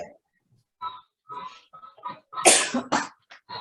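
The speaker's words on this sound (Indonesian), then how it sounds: "Maaf ya, batuk." A few short, harsh coughs, one loud burst in the middle, separated by quiet gaps in a close, dry room.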